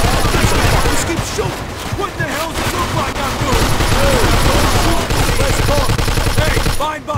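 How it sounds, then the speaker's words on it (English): Dense, continuous gunfire from a Mafia 2 shootout, rapid overlapping bursts and single shots rattling loudly throughout with shouted voices mixed in. "This guy just keeps shooting!"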